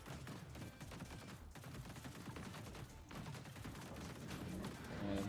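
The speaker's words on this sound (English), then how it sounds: "Oh, the turrets or something shooting us." Turrets firing in the vehicle combat game TerraTech Legion, a dense, continuous barrage of rapid gunfire and impacts under game effects, fairly quiet overall and building slightly toward the end.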